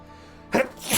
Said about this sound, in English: That was a powerful sneeze.